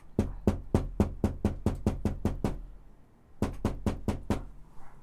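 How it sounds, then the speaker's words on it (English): Rapid knocking on a door, a quick run of about ten firm raps, a short pause, then six more knocks, close and clear with no talking. "He knock on the door."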